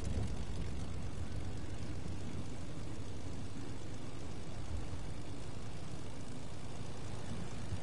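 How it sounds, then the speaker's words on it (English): Steady airplane engine drone in the video game Fortnite, a continuous low rumble of a flying aircraft holding constant throughout with no talk over it. "Take an airplane and let's fly."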